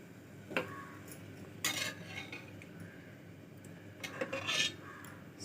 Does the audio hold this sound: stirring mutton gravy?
yes